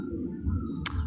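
A Javan myna (jalak kebo) gives a single short, sharp chirp near the end, heard over a steady low background hum.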